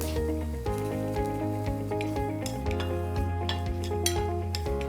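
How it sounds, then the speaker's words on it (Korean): Steady clatter of a utensil stir-frying garnish vegetables in a hot frying pan, with light sizzling and clinks against the metal, under continuous background music. "프라이팬에 고명 재료들을 넣고 볶아줍니다."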